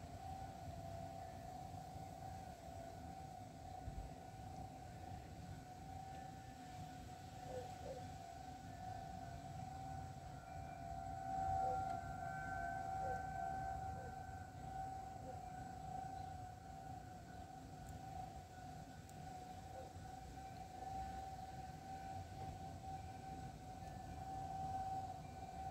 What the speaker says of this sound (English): Tornado siren.